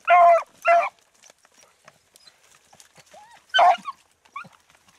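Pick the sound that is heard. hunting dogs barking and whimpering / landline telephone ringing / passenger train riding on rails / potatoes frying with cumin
hunting dogs barking and whimpering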